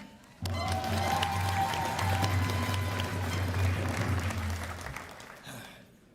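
Audience applause at an Air National Guard annual awards banquet, a dense steady wash of many hands clapping that swells in, holds for several seconds, then tapers off.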